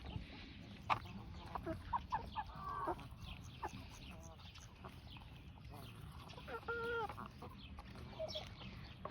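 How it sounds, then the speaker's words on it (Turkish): Broiler chickens, a Hayburu meat breed raised in a village garden, cluck and call in a busy flock, with a few louder squawks over steady murmuring from nearby. "bunlar etlik tavuk, haybura tavuğu bunlar."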